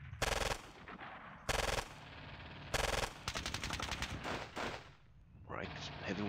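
Gunfire in the Squad Battles video game: three loud bursts of machine-gun fire in succession, followed by a rattling volley and a softer trailing rumble.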